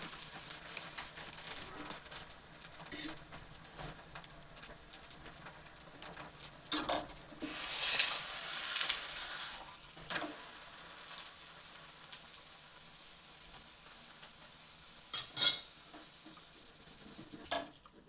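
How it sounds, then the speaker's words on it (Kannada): Bele holige dough cooking in oil in a pan: soft frying sizzle with scraping and stirring, a brief louder hiss midway and a few sharp clinks of utensil on pan, fairly close. "ಈಗ ಸ್ವಲ್ಪ ಎಣ್ಣೆ ಹಾಕಿ ಇದನ್ನು ಚೆನ್ನಾಗಿ ಬೇಯಿಸ್ತೀನಿ"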